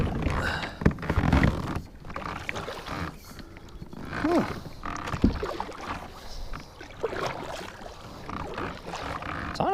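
A kayak pushes off from the shallows and paddles through water, with irregular close splashes, hull knocks and dripping strokes.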